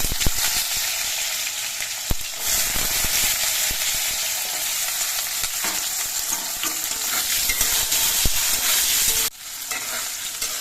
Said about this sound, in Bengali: এবার আলুগুলো কিন্তু কিছুক্ষণ ভেজে নিতে